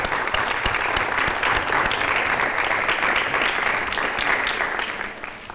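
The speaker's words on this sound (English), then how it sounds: "that deserves a little round of applause" An audience breaks into sustained applause, dense and loud clapping from many hands that holds steady for several seconds before tapering off.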